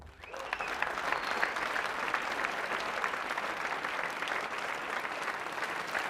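A large audience at a live Call of Duty: Advanced Warfare multiplayer presentation applauds loudly and continuously, a dense wash of clapping and some cheering that holds steady throughout.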